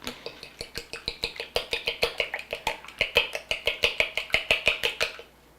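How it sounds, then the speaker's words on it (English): A cracked egg is whisked in a bowl, sharp rhythmic clicks of the whisk against the side at about four or five strokes a second, close and clear, stopping abruptly near the end. "Put that off to the side, and we're just gonna whisk it up."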